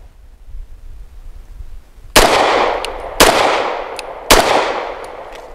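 Three sharp, loud pistol shots from a BUL Armory EDC firing Hornady American Gunner 115 grain hollow points, evenly spaced about a second apart, each with a brief ringing decay, after a quiet outdoor lull.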